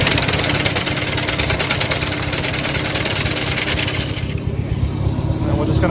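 A 1956 Farmall 200 tractor engine runs loudly nearby in a hay field, with a steady throbbing drone and fast mechanical chatter that shifts slightly toward the end.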